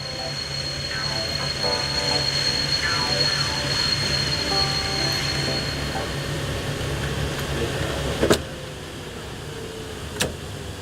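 A train rolls into a large station hall, a steady low rumble and rolling hum that holds for seconds, with two sharp metallic clanks near the end echoing through the space.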